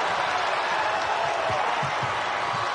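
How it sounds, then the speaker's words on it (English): A basketball crowd roars at Rocket Mortgage Fieldhouse during a Toledo versus Kent State college game, a dense, sustained wash of cheering and clapping filling the arena. "Crowd roaring for Kent State."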